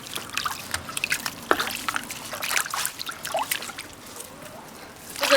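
Vegetables being rinsed by hand in water for a rustic pot dish, with close drips, trickles and small splashes in an irregular stream, moderately quiet and uninterrupted by talk.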